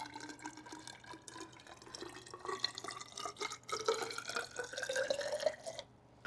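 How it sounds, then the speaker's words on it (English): Home-aged Buffalo Trace bourbon is poured from one container into another, giving a soft, steady trickle with faint drips that brightens toward the end and then stops, with no one speaking. "I'm gonna pour it into this one real quick"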